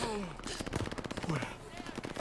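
Machine-gun fire rattles in a Call of Duty Vanguard campaign battle, a rapid run of loud, evenly spaced shots lasting about two seconds, with a voice calling out at the start.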